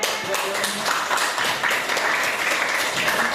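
Applause from a group in a classroom learning session, a dense, loud patter of clapping hands with voices mixed in underneath.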